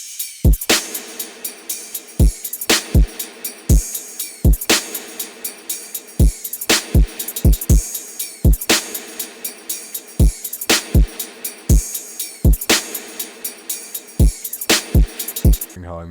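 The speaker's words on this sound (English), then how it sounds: "Very simple, very, very easy drum pattern." A very simple electronic drum pattern: punchy kicks land in a steady, regular rhythm with an open hi-hat ringing across the top, loud and close, with no voices.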